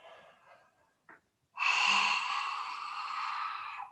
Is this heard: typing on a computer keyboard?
no